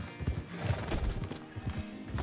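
Horse in the Red Dead Redemption 2 video game, a quick run of close hoof clip-clops with a brief whinny, heard alone without talk.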